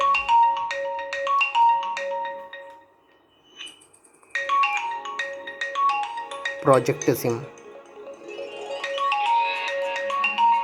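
An Arduino-built GSM mobile phone with a TFT touch screen plays a ringing tone in repeated electronic beeping bursts, with a short pause partway through, while someone talks over part of it.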